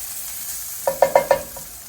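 Bacon, pork cubes and onions stirred in a pan for an Italian pork stew, giving a short run of four or five close scraping, sizzling strokes against a steady frying hiss.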